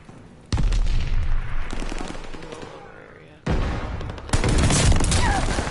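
Rapid gunfire bursts from Call of Duty Vanguard, loud close volleys of automatic shots with booming impacts, starting sharply and returning after a brief lull.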